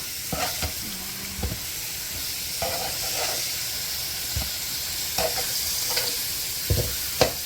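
Flipped pieces of food sizzle steadily in a hot pan, a continuous close frying hiss broken by occasional soft scrapes and clinks of the spatula, with no talking.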